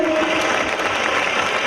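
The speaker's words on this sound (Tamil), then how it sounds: "முடிஞ்சா எழுந்து நின்று அவங்களுக்கு ஒரு கைத்தட்டல் கொடுத்துடலாமா?" An audience at a school annual day claps for the teachers, a dense, even wash of applause from many hands heard throughout at fairly loud level.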